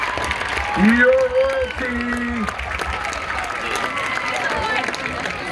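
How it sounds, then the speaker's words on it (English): A high school homecoming crowd claps and cheers for the newly named king and queen, with an announcer's amplified voice over the applause. "Round of applause for all of our candidates."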